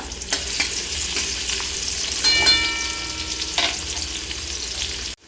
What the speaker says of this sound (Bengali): পেঁয়াজটা একটু লাল করে ভেজে নিব হালকা